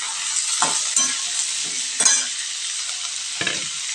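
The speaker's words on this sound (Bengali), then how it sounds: "তো আলুটা দিয়ে দিলাম।" Diced potato frying in a pan with kalmi stems: an even, bright sizzle runs throughout, punctuated by four or five spatula stirs and scrapes, heard up close with no voices.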